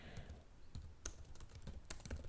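Keys clatter on a computer keyboard in quick, uneven strokes, faint and close with a few sharper clicks among the softer taps.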